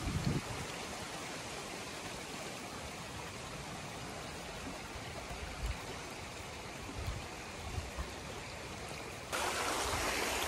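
A large river in the wild flows steadily in a continuous broadband rush of water, close and fairly loud throughout, growing slightly brighter and louder near the end, with no voices.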